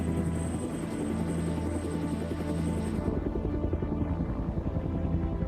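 A helicopter's rotor and engine drone steadily and loudly throughout, a continuous chopping roar with no speech.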